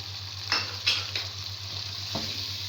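Spoon stirring black pepper and garam masala into a sizzling chicken karahi, a few distinct scraping strokes over a steady low hiss and hum of frying, close and moderately loud.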